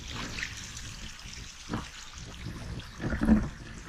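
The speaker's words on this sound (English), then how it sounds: "It's a lovely little brook, isn't it?" A small brook on Dartmoor trickles steadily near a wild camp at dusk, a soft, continuous watery babble close by with a brief louder splash near the end and no talking.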